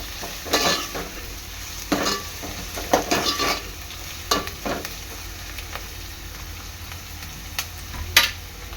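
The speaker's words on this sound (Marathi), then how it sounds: "त्यामध्ये मी टाकणार आहे आता ठेचलेलं लसूण एक एकजीव करून घ्यायचा आहे" Crushed garlic stirred into Koli-style chicken sukka in a sizzling pan, with repeated scraping strokes of the spoon every second or so over a constant close frying hiss, no voices.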